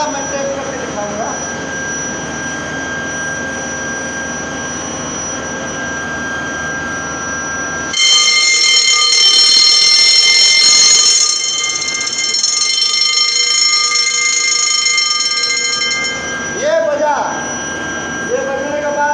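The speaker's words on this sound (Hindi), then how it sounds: "बेसमेंट 1 में कोई स्प्रिंकलर टूट गया, ये अपने आप अलार्म बजेगा" A fire sprinkler alarm panel for basement 1 goes off with a loud, sustained ringing tone that begins abruptly partway through, after a stretch of quieter background hum and talk.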